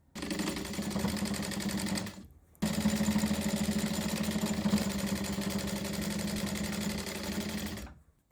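A sewing machine stitches down the binding on a quilt coat in two steady runs, a short burst then a longer continuous whir after a brief pause, close and fairly loud with no talking.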